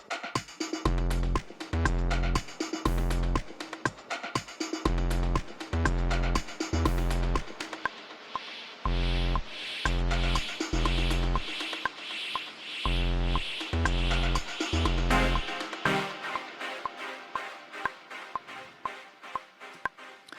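Anthemic electronic track bursts back in as the first lead returns, swelling out wide, with punchy rhythmic chords pulsing hard for several seconds before the mix opens into a sustained, fading wash.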